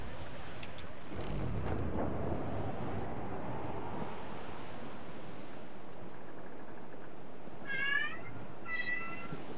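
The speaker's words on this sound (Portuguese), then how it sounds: "Agora é o gato enchendo o saco." A house cat meows twice near the end, two short, clear calls heard close up after a long, loud rumbling blast of game noise.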